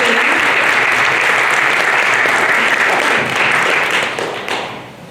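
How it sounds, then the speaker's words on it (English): An audience at a kids' talent show gives Dave a loud round of applause, a dense, close burst of clapping that holds steady and then tapers off near the end. "Give a hand of applause to Dave"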